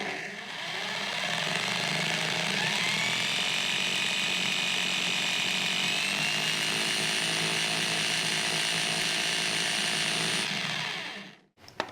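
A power drill bores a hole during an indoor shower build, a steady loud whine that climbs in pitch partway through and runs nearly twelve seconds before cutting off abruptly.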